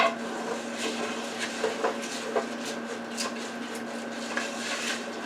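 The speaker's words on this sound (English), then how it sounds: "now I'm going to stir that up and see what's going on" A spoon stirring water into beans and rice inside a Power Pressure Cooker XL pot: light, irregular scrapes and clinks against the metal, fairly quiet, over a steady electrical hum.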